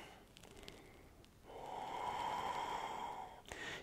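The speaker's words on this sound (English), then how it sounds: "Deep breathing." During a power yoga class, in a standing triangle pose, a person draws a long, deep breath through the nose, a steady airy rush lasting about two seconds and rising over quieter breathy sounds.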